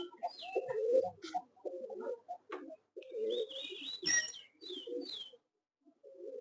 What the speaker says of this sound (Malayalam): ഇതൊരു പ്രാവ്.